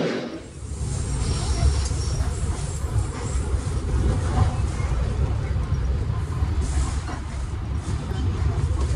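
Sri Tanjung economy train running on the Jogja-Surabaya route, a steady loud rumble of wheels and carriage noise that holds throughout, with faint voices in the background.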